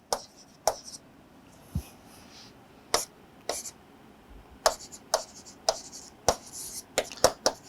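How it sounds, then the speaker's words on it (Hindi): Marker or chalk strokes writing a sentence on a classroom board, a series of sharp scratchy taps and short squeaks spread irregularly across several seconds, heard close with a quiet room behind. "मैं अगर यहाँ पर एक पर्टिकुलर सेंटेंस लिखना चाहूँ"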